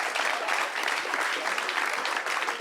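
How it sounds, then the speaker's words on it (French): An audience claps for a student introduced on a talk show, giving a short, steady burst of applause at moderate volume with dense overlapping claps. "On l'applaudit quand même."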